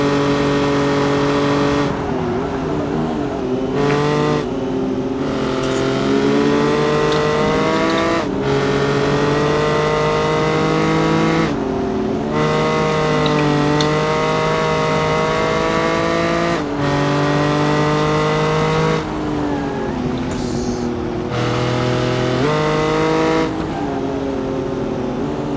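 Cars in BeamNG multiplayer driving game, engines loudly revving and shifting through gears with a sustained roar, brief gaps between shifts, and occasional tire squeal.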